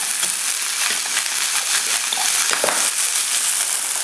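Food with tomato coulis and white wine fries loudly in a pan, a dense steady sizzle broken by quick scraping stirs and light clinks throughout, close up with no talk.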